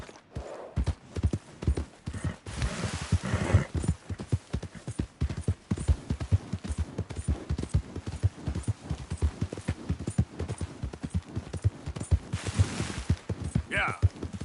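Horse hooves clip-clop steadily through a PS4 video game, a fast, continuous rhythm of close, loud hoofbeats with a brief whinny near the end and some game dialogue over it.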